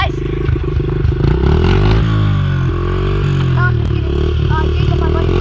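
A dirt bike engine idles in neutral, a steady low rumble with a rough mechanical clatter, loud and close, while people talk over it.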